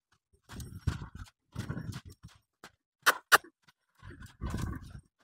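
A horse's hooves thud on the ground during whip-breaking training, coming in irregular bursts of heavy footfalls, with two sharp whip cracks in the middle.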